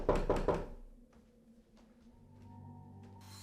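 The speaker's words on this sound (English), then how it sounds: "an incessant knocking is heard at Chase's door" Three quick, heavy knocks on a door in a horror film scene, loud and close at the start, followed by a quiet, tense stretch with low ambient tones.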